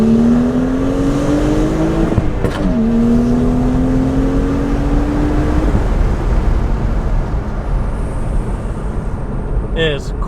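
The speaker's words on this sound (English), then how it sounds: "So we finally got the tune on, and we're taking it for the first test drive." A tuned BMW 135i with stock exhaust apart from the downpipe pulls hard during a test drive, heard from inside the cabin. The engine drone climbs steadily in pitch, drops briefly at a gear change, then rises again, loud and continuous.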